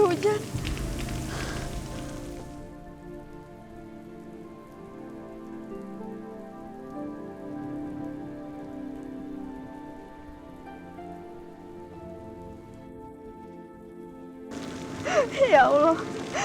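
Steady rain patters on a surface, heavy and close at the start and again at the end, while soft tonal music fills the quieter middle stretch.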